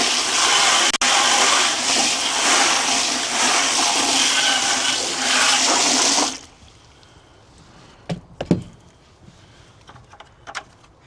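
Water gushes steadily from a hose or tap into a filthy plastic bucket being washed out, a loud continuous splashing rush for about six seconds, then stopping, followed by a few faint knocks and clatters.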